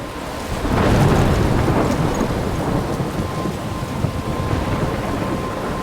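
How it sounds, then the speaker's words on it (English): Heavy thunderstorm with steady pouring rain in the video game Life is Strange: a loud, dense wash of rainfall swelling early with a rumbling roll of thunder, then continuing as a constant roar, with no voices. "I'm trapped in a storm?"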